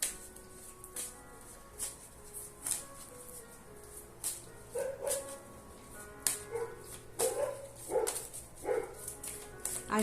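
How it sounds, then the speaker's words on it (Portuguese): Several dogs bark outdoors on the street in sharp repeated bursts, some yips and whimpers mixed in, moderately distant and irregular throughout. "desculpa os cachorrinhos latindo na rua, eles adoram latir"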